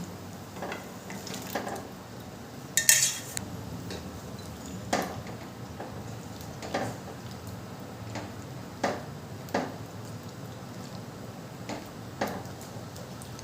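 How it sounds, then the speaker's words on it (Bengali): Raw mango pieces are stirred in sugar syrup in a pan, giving soft repeated scraping taps at an unhurried rhythm, with one sharper clatter early on and no talk. "আমগুলো দিয়ে খুব ভালো করে নেড়ে চেড়ে দেবো"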